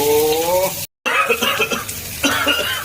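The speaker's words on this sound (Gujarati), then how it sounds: "એક સાઈડ ઉધરસ આવે છે બોલવું પણ અઘરું થઈ જાય છે" Several harsh coughs break out close by amid speech, with a brief silence partway through and a faint sizzle of chillies frying underneath.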